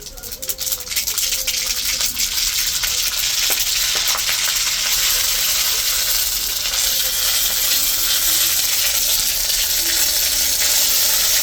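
Bay leaves, mustard seeds and a dried chili fry in hot oil, producing a loud, close, continuous crackling sizzle that builds in the first second and holds steady with no talking.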